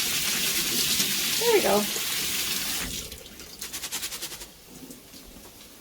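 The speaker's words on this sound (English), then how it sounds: "Often lentils have a little bit of a dust on them, so you kind of want to rinse them off first." Tap water running over lentils in a colander, a steady rushing stream that stops partway, followed by dripping and soft rhythmic shaking, with a person speaking briefly over it.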